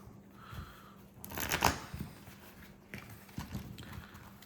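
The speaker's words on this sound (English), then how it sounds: "give it 1, 2, 3, 4, 5, and then 2 riffles" Pokémon trading cards riffle shuffled by hand, a soft buzzing flutter of cards near the mic, strongest as one riffle about a third of the way through, with lighter card handling taps before and after.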